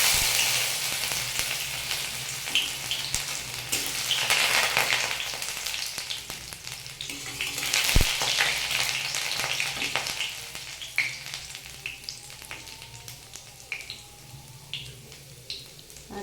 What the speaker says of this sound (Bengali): আদাটা আমার লাল লাল করে ভাজা হয়ে গেছে